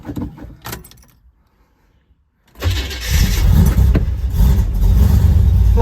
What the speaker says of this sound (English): Hope the car starts.